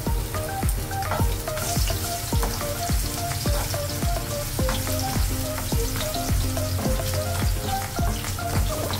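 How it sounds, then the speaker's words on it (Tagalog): Garlic frying in a pan for sinigang na lapu lapu, a steady, crackling sizzle with dense popping spatters throughout, close and continuous with no talking. "Lagyan natin ang ating bawang."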